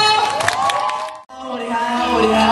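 An audience cheers and claps to welcome two young male singers onto a concert stage, a loud continuous roar of crowd noise with whoops. A voice speaks over the start, and the noise drops out briefly midway before resuming.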